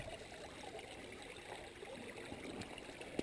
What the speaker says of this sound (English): But plenty of water is flowing out of that hose.